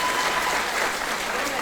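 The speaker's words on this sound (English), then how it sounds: "Let's give this staff a round of applause who stepped up and stepped out." Continuous applause from a graduation ceremony crowd honoring school staff, a dense, even wash of many clapping hands at steady loudness throughout a short stretch, with no distinct voices.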